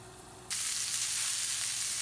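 Floured bear chops hitting a hot pan, a quiet hum suddenly giving way to a loud, steady, close sizzle that carries on alone without letting up.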